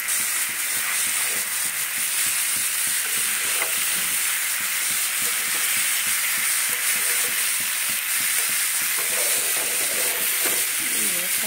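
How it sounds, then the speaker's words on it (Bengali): Potatoes stirred and fried in a half-fried spice paste for doi aloo, a continuous loud sizzle with repeated scraping and clatter of a spatula in the pan, close up. "এবারে এই আলুগুলোকে দিয়ে দেবো মশলার মধ্যে"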